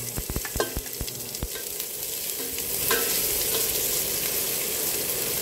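Chopped garlic and onion fry in a hot pan for chicken lomi, giving a steady broadband sizzle that swells midway. A cluster of sharp utensil clicks and scrapes from stirring comes early on.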